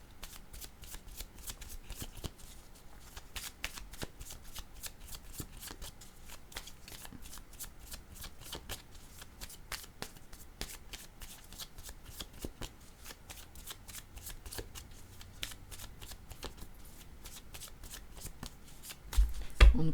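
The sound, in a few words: tarot cards being shuffled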